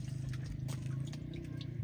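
Water pouring from a tilted bucket drawn from a village well, a continuous liquid splash and gurgle, fairly close and steady, with no talking.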